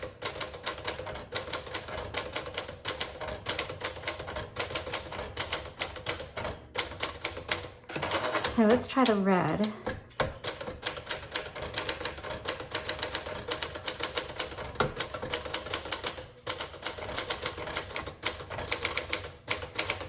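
A 1950 Smith Corona Sterling manual typewriter clatters through steady keystrokes up close, with a brief carriage and bell interruption midway, while a voice speaks briefly.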